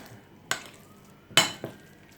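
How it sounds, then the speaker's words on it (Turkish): A spoon scrapes and clinks against a bowl while mixing a mashed potato börek filling with tomato paste and spices, three distinct close strokes with quiet gaps between. "İyice iç harcımızı karıştıralım."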